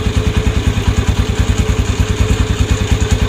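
A Honda TMX155 motorcycle engine runs close by with a loud, steady, rapid thumping firing rhythm, pulsing evenly throughout with no voices.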